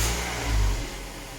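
A 2005 Mazda 3 2.5 GT four-cylinder revs briefly before a muffler swap, a loud, rough low-pitched exhaust drone swelling once mid-burst and then easing off, with no talking.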